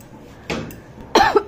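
Two short coughs from a woman at a family haldi ceremony, the first a brief harsh burst and the second a louder, raspier cough about half a second later, close to the microphone.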